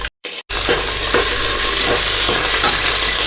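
Green chillies and pulao spices fry in a pressure cooker, a loud, close, continuous sizzle after a couple of brief dropouts at the start, with faint stirring scrapes underneath and no talking.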